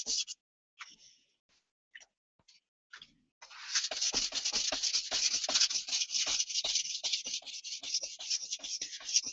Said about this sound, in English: to sharpen the tip, I'm bringing my arm inside and using a rocking motion where I lift up and rotate back towards the spine